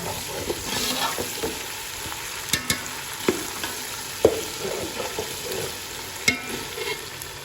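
Steady sizzling of red chili powder frying in a pan, with occasional scraping and clinks of a spoon stirring; close and fairly quiet, no speech.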